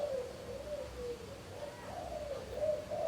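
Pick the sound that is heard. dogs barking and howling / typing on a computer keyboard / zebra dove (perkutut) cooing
zebra dove (perkutut) cooing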